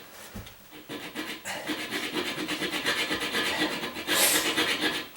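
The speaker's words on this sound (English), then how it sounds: "I'm gonna take that and I'm gonna cut it just a little bit above the nut" A hacksaw blade cutting through a toilet bolt just above the nut: a rapid, rhythmic rasping of back-and-forth strokes, close and fairly faint, growing steadier and slightly louder toward the end.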